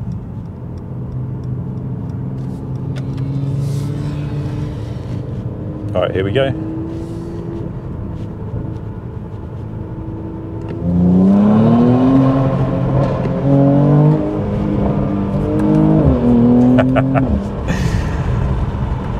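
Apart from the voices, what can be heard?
car exhaust bangs while revving and changing gear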